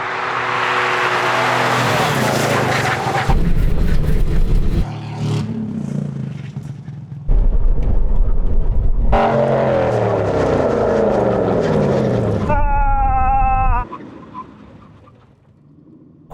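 Aston Martin racing cars and road cars in a drag race: engines roar past in loud bursts with rising and falling pitch, a high whining pass near the end, then fading away, with talk at times.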